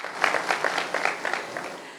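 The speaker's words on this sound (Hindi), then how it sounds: "एक बार फिर से ज़रा ज़ोरदार तालियां हो जाएं" Applause from an audience at a public event in Jhansi, a brief burst of many hands clapping at moderate volume, fairly distant and steady, with no voices over it.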